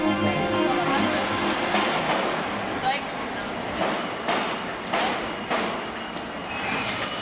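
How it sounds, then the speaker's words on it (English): Fast train passing close by, a loud continuous rumble of rolling wheels with rhythmic clicks over rail joints and squealing metal, sustained the whole time. "One of the fastest trains."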